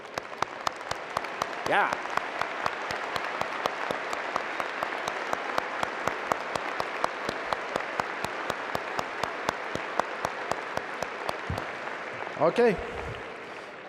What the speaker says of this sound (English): please stand and let's applaud the newest members of our UNI alumni family.